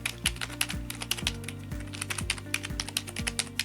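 Keys on a Logitech MK270 wireless keyboard are typed in a quick, steady run of close, crisp clicks and taps, sounding alone with no voice.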